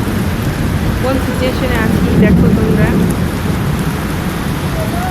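Heavy rain pours in a loud, dense, unbroken hiss with a low rumbling undertone, as a person standing out in the downpour talks over it.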